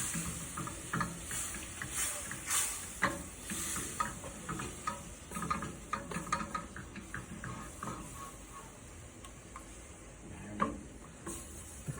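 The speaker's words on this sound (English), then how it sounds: "And deglaze the pan. Take our implement, scrape all the bits off the bottom." A pan holding about a quarter to half cup of wine sizzles and hisses while a utensil scrapes browned chicken bits off the bottom, close-up irregular scraping strokes over a steady simmer.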